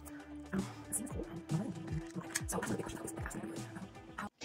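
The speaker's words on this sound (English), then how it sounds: "Can y'all hear this rabbit going to town on his water bottle?" A pet rabbit drinks from its water bottle indoors, producing a rapid series of small clicking, dripping taps with a faint tonal ring, close to the microphone and without speech.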